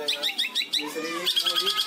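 A cendet, or long-tailed shrike, sings in rapid repeated chirping phrases, close and clear, with a voice briefly present.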